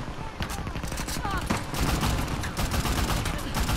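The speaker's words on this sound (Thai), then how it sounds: "ยิงไม่โดนเลยสักนัดเนี่ย" Gunfire in the action video game Uncharted: The Lost Legacy, a dense, continuous rattle of rapid shots and impacts filling the whole stretch, loud and close, with game speech mixed in underneath.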